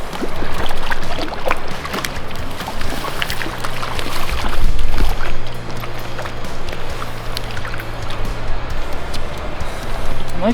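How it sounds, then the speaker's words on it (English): A small Pennsylvania mountain creek flows steadily with a continuous close rushing and burbling, loud and unbroken for the whole stretch, with no talk over it. "Nice little brook."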